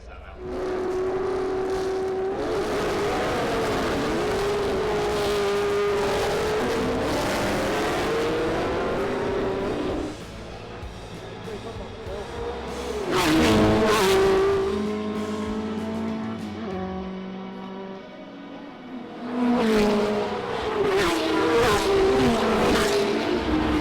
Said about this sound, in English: The car's better under braking.